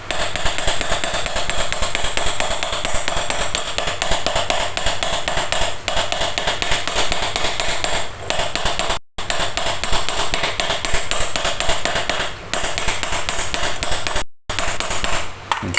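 Steady metallic hammer taps on the loose shaft of a Toshiba wall fan repeat rapidly and continuously, with a couple of brief pauses, loud and close.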